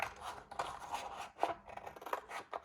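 Scissors snip through velvet fabric for a sewn cover in a quick run of close, quiet cuts, each blade closing with a soft rasping crunch, with no voice.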